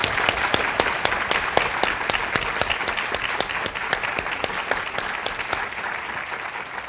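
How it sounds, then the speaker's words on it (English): Audience applauding a panel of speakers at a conference, steady massed clapping with sharp individual claps standing out in a regular beat, continuing at an even level throughout. "So another round of applause, please, for our speakers."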